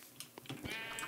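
A sheep bleats in the video game Minecraft, a short wavering bleat that stands alone and sounds fairly faint.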